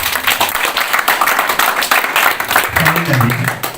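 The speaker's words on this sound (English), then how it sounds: "So let's all clap for ourselves." A crowd claps in dense, steady applause at a Kenyan short film screening, with a voice rising over the clapping near the end.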